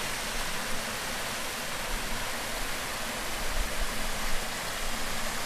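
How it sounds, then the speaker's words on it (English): Small waterfall on an arroyo in Buenos Aires, a continuous broadband rush of falling water, close and steady, with no voices. "Here's the waterfall."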